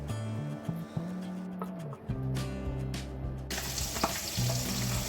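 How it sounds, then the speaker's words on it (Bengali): Dry red chillies and bay leaves in hot oil for dal give off a steady, close sizzle. Low tonal hums and brief clatters of stirring come and go underneath. "ডালটা করার জন্য অলরেডি আমি তেলের মধ্যে শুকনো লঙ্কা আর তেজপাতা দিয়ে দিয়েছি"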